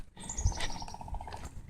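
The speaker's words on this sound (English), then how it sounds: "I think I hear a woodpecker out in the distance." A woodpecker in a natural outdoor setting gives a quick, evenly spaced series of light knocks, faint and distant over soft ambient background.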